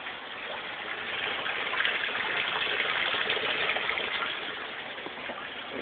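Water rushes steadily from a 1,000 gallon per hour pump pushing it about six feet up through a 3/4 inch pipe in an aquaponics sump tank, a continuous close gushing flow that swells slightly in the middle.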